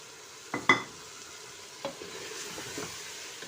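Carrots and potatoes frying in a pan with green chilies, a steady low sizzle with a few sharp stirring clinks and scrapes near the start and middle, no talk.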